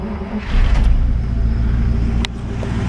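A 1948 Cadillac Sedanette with push-button start idles steadily in a low, even rumble after it catches, running close and quietly with no voices over it.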